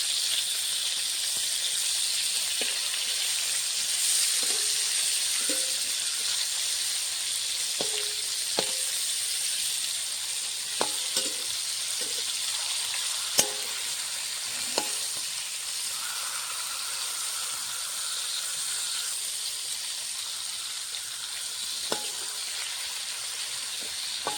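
Rohu fish fries in hot oil with a steady, close sizzle and hiss, punctuated by occasional light taps and clicks of a utensil as it is turned over.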